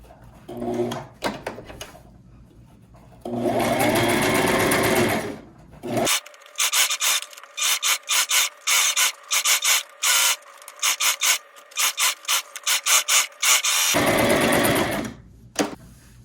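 Sewing machine stitching a fabric circle placemat, bursts of whirring motor run close and loud, with a long stretch of short stop-start stitching spurts in between and no talking.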